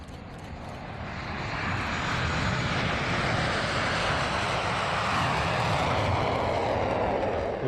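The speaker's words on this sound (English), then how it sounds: "Always a standout act at any sunset show is Randy Ball's MiG-17F." A MiG-17F jet fighter flown at a sunset air show roars steadily overhead, swelling in the first two seconds into a loud, sustained broadband rumble and whoosh that holds without talk.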